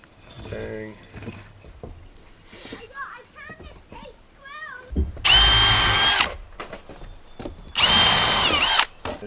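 A power drill driving a screw while a chicken brooder is set up, two loud sustained whirring bursts of a couple of seconds each, close by, following a stretch of people talking.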